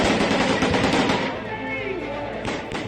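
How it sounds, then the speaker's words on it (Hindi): Dense, indiscriminate automatic gunfire in Balakot, Pakistan, with a rapid, continuous crackle of overlapping shots at loud, close level, slightly easing midway and then picking up again. "अंधाधुंध फायरिंग"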